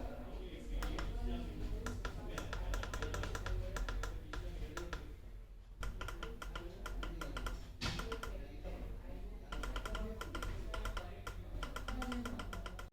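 Keys pressed on a Mindray ECG machine's keypad: quick bursts of close clicky taps separated by short pauses, with quiet speech in the background.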